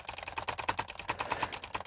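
A computer keyboard is tapped rapidly, with a quick, slightly uneven run of about a dozen distinct key presses. The clicks are close and clear against a light background hiss.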